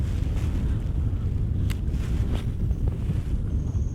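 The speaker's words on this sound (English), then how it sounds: "Between the wind and the currents really pushing me away from this bank." Wind gusting steadily across an open riverbank or lakeside while fishing, a continuous low rumble of buffeting against the microphone with faint higher rustles, no one speaking.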